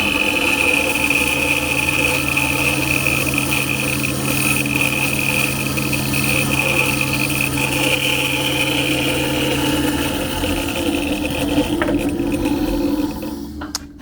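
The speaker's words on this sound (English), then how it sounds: "So I'll cut this out on the bandsaw, cut most of that out of the bandsaw close to the line" A bandsaw makes a rough cut through wood, a steady loud mechanical whine and hum that runs without a break and then winds down near the end, with no voices.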